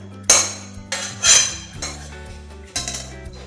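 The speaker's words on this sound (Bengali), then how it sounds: "এবার থালার মধ্যে ঢেলে নিচ্ছি।" Cooked rice flour dough turned out from a pot onto a metal plate, several sharp close clanks and scrapes of pan and utensil against metal, irregular and loud, with no voices.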